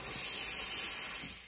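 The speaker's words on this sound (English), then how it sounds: "purge our steam wand" Steam wand on a Breville espresso machine purging, a steady broad hiss of dry steam held for over a second before tapering off, loud and alone.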